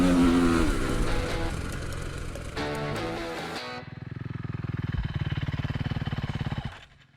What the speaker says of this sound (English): that was a couple of laps on the Duke with traction control fully engaged